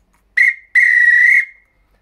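An ACME Thunderer professional referee whistle is blown twice, first a short shrill blast and then a longer trilling one, very loud and close, with silence around them.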